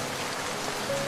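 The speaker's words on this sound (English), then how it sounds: "it started to rain like cats and dogs there" Dense, steady hiss of heavy rain falling on surfaces, an even wash of drops at moderate level with no voices, lasting only a moment.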